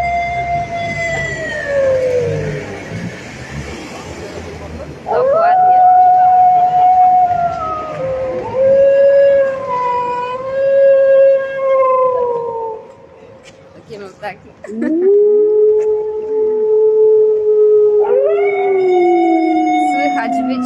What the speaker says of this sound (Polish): Słychać wycie.